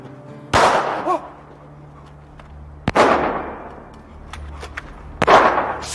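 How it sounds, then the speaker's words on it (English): Gunshots fired at fleeing people in a film, three loud sharp cracks spaced a couple of seconds apart, each ringing out with a short echo against a quiet background. "She's shooting at us!"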